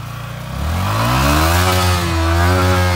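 A motorcycle stuck in heavy snow revs hard on an off-road trail, and its engine climbs and holds a loud, steady, strained whine for several seconds with no pauses.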